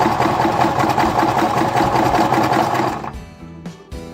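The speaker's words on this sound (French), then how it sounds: "on va commencer par faire un point zigzag aux deux extrémités des deux anses" Sewing machine running steadily for about three seconds while zigzag-stitching the ends of fabric tote bag handles, then stopping, followed by a few faint handling clicks.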